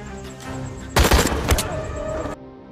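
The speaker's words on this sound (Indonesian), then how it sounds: "Mitch memberikan beberapa tembakan ke arah Jack." A couple of sharp, loud gunshots from a film burst out in quick succession mid-clip, with a brief rumbling tail, set against a quieter background.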